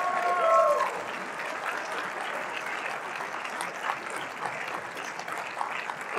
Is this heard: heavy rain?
no